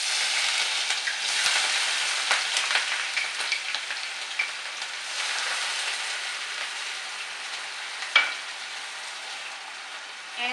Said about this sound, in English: a hot pan with about a quarter cup of oil, to which we are going to add the onions